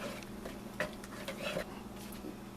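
A spoon stirs canned cream of mushroom soup into gravy in a pan, giving soft scraping and light clinks of utensil on cookware, faint and close, with a low steady hum underneath.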